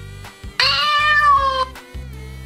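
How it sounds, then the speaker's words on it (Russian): A phone cat-translator app plays a recorded cat meow, one clear drawn-out mew heard close, with a low electronic hum underneath. "у меня есть стандартные какие-то кошачьи фразы. Вот они у меня в телефоне."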